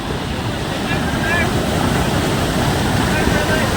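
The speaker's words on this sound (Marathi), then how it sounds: "हा बंधाराच आहे आणि हा खाली धबधबा वॉटरफॉल त्याचा कसा वाहतो एकदम" Steady, loud rush of a waterfall below a small river dam fills the whole clip, a constant broadband roar with no pauses, heard close up.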